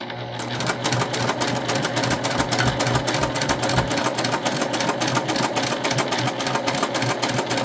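Sewing machine stitching continuously around a cotton tote bag, a steady, loud, fast mechanical hum and needle patter that runs the whole time without pause, including a back stitch at the end.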